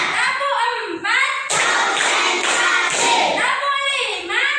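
A class of children claps together in a numbered clapping routine led by a teacher, a dense burst of hand claps following a voice calling out the count.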